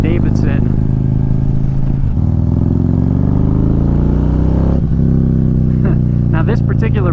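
Harley-Davidson 108 V-twin motorcycle engine running close by, a loud, steady low rumble with one brief dip and a rise in pitch, while a voice talks over it.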